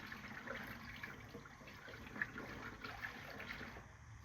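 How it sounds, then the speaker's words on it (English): Coolant trickling slowly out of a BMW cooling system during a water pump replacement, a faint, steady liquid dribble with a soft continuous wash and occasional small drips, no voices. "See, look, coolant is coming out of there now."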